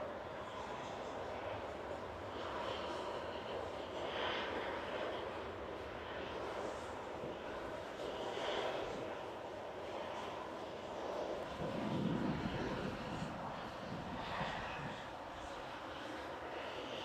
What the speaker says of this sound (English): Heading back to Lisbon, CSTTX, Embraer 195 with flight 1313.